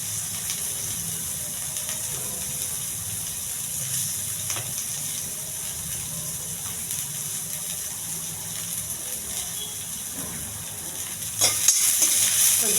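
Curry leaves, chana dal, cumin and onions frying in a pan, a steady close sizzle with faint stirring scrapes, growing briefly louder near the end.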